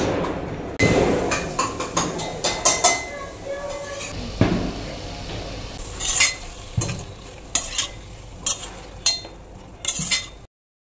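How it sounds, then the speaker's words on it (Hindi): Stirring and frying of a spice tempering in a pan for a home-cooked Diwali meal, with repeated scrapes and clinks of a utensil against the pan over a low sizzle, close and moderately loud. "तो चलिए तड़का लगाते हैं"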